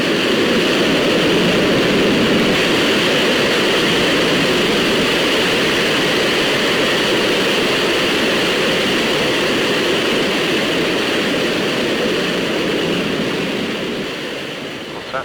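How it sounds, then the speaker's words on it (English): Concorde jet engines roar steadily during takeoff, a loud, broad and sustained rush that holds almost unchanged before easing slightly toward the end. "Clear takeoff 9 right, Speedbird Concorde 1."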